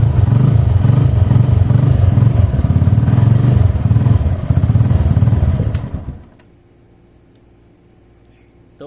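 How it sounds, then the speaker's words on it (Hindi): A 125cc motorcycle engine starts on a lithium battery and idles loudly with a steady rapid chug for about six seconds, then cuts off abruptly into near silence. "तो बहुत ज़बरदस्त तरीके से इसने 125 सीसी इंजन को स्टार्ट किया है।"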